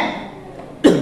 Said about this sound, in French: je vais tousser